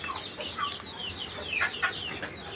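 Chickens, including newly bought silky hens, cluck and chatter in a small coop with a fan running, several birds calling in quick overlapping bursts close by over a constant background hiss.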